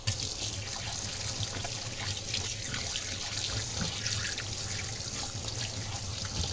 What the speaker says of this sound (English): I think I may have to hot water the tablespoon